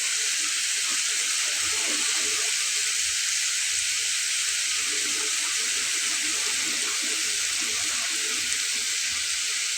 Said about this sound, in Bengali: এবং এই পাত্রটা ধুয়ে আমি এতে একটু পানি দিব সামান্য।